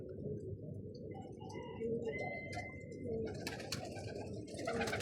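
Red domestic pigeons coo in low, rolling repeated calls close by, with a few brighter chirps from other birds layered on top and no voices.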